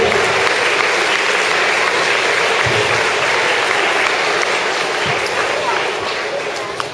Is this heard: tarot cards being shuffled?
no